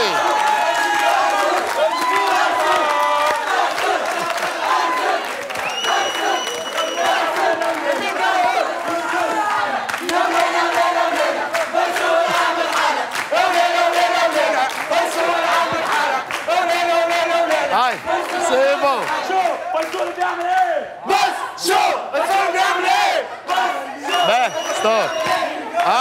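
Studio audience crowd chanting and cheering loudly in rhythmic repeated bursts, continuous and close for the whole stretch.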